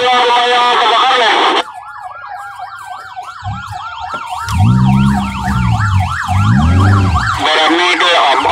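An ambulance siren wails loudly and up close at a house fire, shifting from a fast yelp to a rising and falling wail, while people speak over it.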